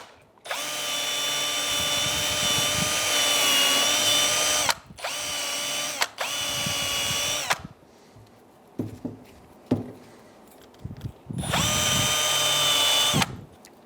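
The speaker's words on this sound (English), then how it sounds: "Using a wire brush, we're going to clean the valleys of the brackets." A powered wire brush cleaning Honda Pilot rear brake caliper brackets, whirring in loud, steady high-pitched bursts of several seconds, stopping and restarting, with short scraping clatters in between.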